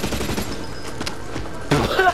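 Rapid gunfire in the Blacklight Retribution shooter rattles in dense bursts, louder toward the end, under a light background of play sounds.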